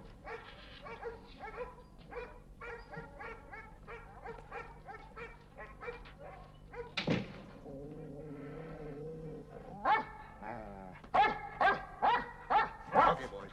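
Several Doberman dogs bark and yip in bursts, some close and some farther off, with a whimper and people talking quietly underneath.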